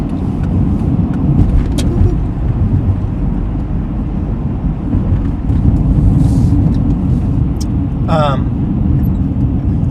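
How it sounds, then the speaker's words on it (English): A car merges onto a highway exit through oncoming traffic, its engine and road rumble a steady, loud, low drone throughout, with a brief passing whoosh near the end. "Hopping onto this exit in the middle of oncoming traffic."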